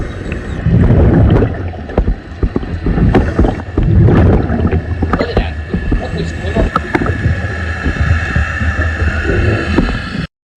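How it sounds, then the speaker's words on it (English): A boat passing overhead, heard underwater while scuba diving off Catalina in heavy boat traffic: a loud, continuous rumbling drone with irregular surging bursts, fairly close, lasting about ten seconds. "So that's what boats sound like."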